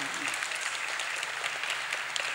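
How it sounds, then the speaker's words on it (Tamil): An audience at a book launch honouring Bharathiraja's 25-year cinema journey claps steadily and densely throughout, a sustained wash of applause filling the hall. "நீங்கள் தட்டுகிற அந்த கைதட்டு இருக்கே"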